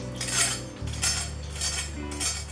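A German knife saws through crispy double-panko tonkatsu in several rasping crunchy strokes, close and fairly quiet, with a low background hum.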